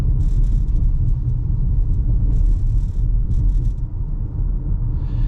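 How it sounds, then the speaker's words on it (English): A 2022 VW Tiguan S rolls over a bumpy stretch of road, heard from inside as a steady low road rumble and muffled engine drone, with faint thuds from the bumps and no voices. "this is a pretty bumpy section of the road"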